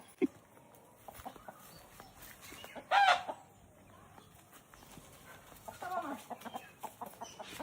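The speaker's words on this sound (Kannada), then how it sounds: "ಎಲ್ಲ ನಾಟಿ ಕೋಳಿನೇ." Native country chickens cluck in short, scattered bursts nearby, with one louder squawk midway and quiet background voices.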